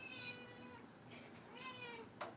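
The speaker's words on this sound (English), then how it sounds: "There's the other cat." Cat meowing indoors, a couple of drawn-out meows close by and fairly soft over a quiet room hum.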